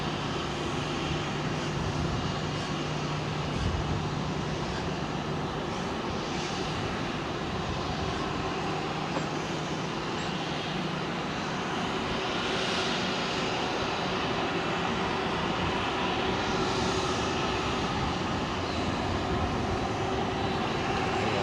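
A jet aircraft engine spools up at Heathrow Airport, a steady, broad roar mixed with a low hum that holds evenly throughout, heard from some distance with no talking.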